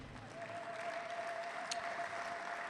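A church congregation claps together, faint and somewhat distant, in a steady even patter with a soft tone humming underneath.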